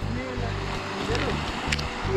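The Río Negro flowing in Chingaza National Park, a steady rushing wash of water with low rumbling surges, heard under intermittent talk from a man close by.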